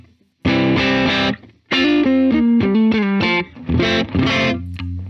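Electric guitar played through a Ruby pedal with saturation, loud distorted notes and short melodic phrases with brief gaps, sounding alone and close.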